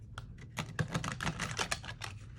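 A precious gilded-edge tarot deck, the Dust II Onyx, shuffled from the side, giving a run of crisp, close card riffles and taps that patter irregularly for a couple of seconds with no voices.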